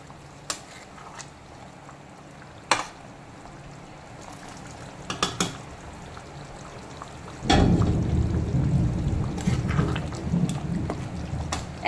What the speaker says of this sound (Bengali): তো এখন আমি দিয়ে দেবো বেশ কিছুটা গরম জল।